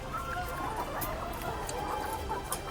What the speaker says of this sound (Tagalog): makakain ng sapat ang ating mga manok na alaga